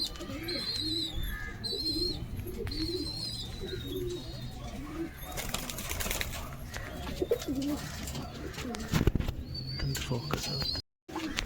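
Pigeons in a loft give soft, repeated low coos throughout, with occasional chirps and a brief burst of wing flapping, heard close under a quiet background.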